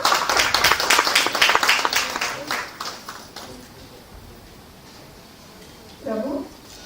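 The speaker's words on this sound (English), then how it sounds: "claps for the presenters." Audience at an academic conference session claps for presenters, a burst of brisk, fairly close clapping that tapers off over a few seconds, followed by quiet room tone and a short spoken phrase.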